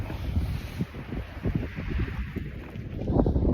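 Strong wind gusts across a lake in Utah, roaring over the microphone beside a boat at a ramp, with rumbling low buffeting and a rising surge toward the end.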